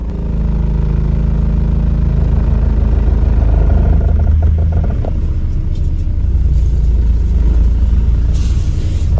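A Mercedes 2.0 CDI turbo diesel with a downpipe and 3-inch straight pipe exhaust, its engine mounts faulty and shaking, drives with a loud, deep, continuous droning rumble close up and little change in pitch.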